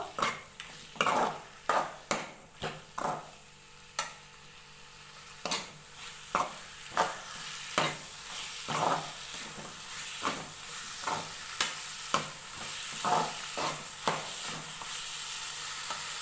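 Pieces of goat mutton sizzle in a pan on medium heat while a spoon stirs them, producing a string of sharp scrapes and knocks over a constant frying hiss, close by, with no voices.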